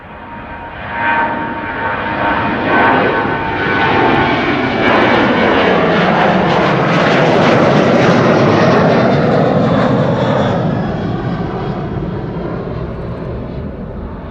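A departing airliner's jet engines roar at Amsterdam Schiphol Airport. The sound is loud and close, rising quickly and holding a full, sustained rumble before slowly fading toward the end.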